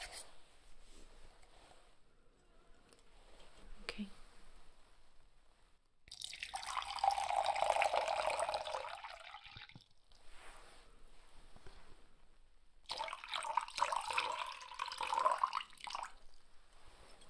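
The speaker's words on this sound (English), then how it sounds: "I'm going to pour you a nice drink of water." Water poured into a cup in a quiet ASMR-style setting, two bursts of splashing, trickling pour, each a few seconds long, close and soft with no talking.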